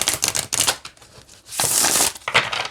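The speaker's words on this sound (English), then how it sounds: "what I typically do with longer and bigger decks is shuffle them side to side" A large tarot card deck shuffled side to side by hand, bursts of riffling, papery card friction and a longer sustained swish, close and fairly loud with no talk.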